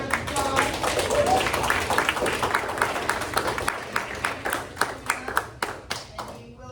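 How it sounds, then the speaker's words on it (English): A conference audience applauds a panel with dense clapping that thins out into scattered, distinct claps before fading. "let's give our panel a wonderful round of applause"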